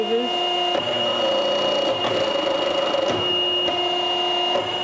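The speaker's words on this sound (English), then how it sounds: "I'm going to run through an automatic cycle without any tube in there." An RCP 8500 tube reducing and beading unit runs an automatic cycle with no tube loaded, a steady loud mechanical hum with tonal whine broken by several sharp clunks and clicks as clamps close and open, with some electrical chatter from a voltage problem.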